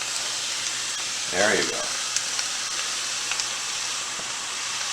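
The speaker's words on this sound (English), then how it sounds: "I'm going to throw that right on into the pan on hot with an open flame." Marinated beef hits a hot pan over an open flame, giving a steady broad sizzle that swells briefly as the meat lands, with a short spoken phrase over it.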